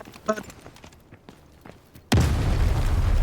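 Scattered gunfire and footsteps in a video game, then a sudden loud grenade blast that booms and lingers as a rumbling roar of debris.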